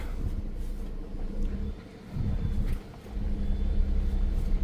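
Force Gurkha SUV engine rumbling as it turns around at the road's end near Bhalu Ghati, a low close drone that swells and eases with the manoeuvre.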